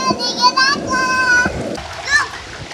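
Children splash while swimming in a natural pool at a camping site in Dingalan, Aurora, with repeated close splashes mixed with the excited, high voices of kids talking and calling out.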